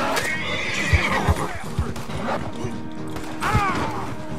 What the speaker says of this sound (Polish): Dawaj, wskakuj na konia.